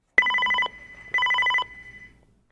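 A telephone rings with two electronic trilling bursts about a second apart, each about half a second long, loud and clear with nothing else around them.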